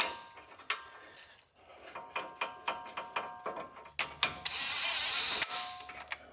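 A large 24 mm brake caliper bolt on a RAM 2500/3500 front brake being threaded in with a ratchet, a quiet run of evenly spaced metallic clicks close by, followed by a brief rustle.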